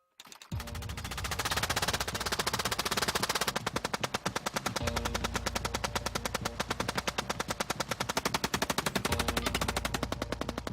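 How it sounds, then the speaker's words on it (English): A Gatling gun fires a long, unbroken stream of rapid shots, loud and close, the mechanical rhythm holding steady for about ten seconds with a heavier low boom joining partway through. "the Gatling gun could unleash 600."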